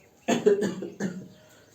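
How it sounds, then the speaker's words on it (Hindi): A couple of harsh coughs close to the mic from a person with a cold, a quick double burst followed by a single one, with quiet in between. "जुकाम हो गया, खांसी आ रही है।"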